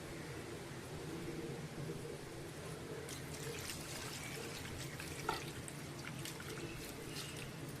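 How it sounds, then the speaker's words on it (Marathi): Water splashes and trickles steadily over a roasted goat head as it is rinsed clean, a continuous close wash that grows brighter and more spattered partway through. "आता ह्याला ना 2-3 वेळा स्वच्छ धुवून घ्यायचं।"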